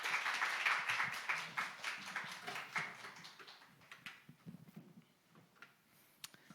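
Scattered clapping from a church worship audience, fairly close, thinning out toward the end into a few isolated claps.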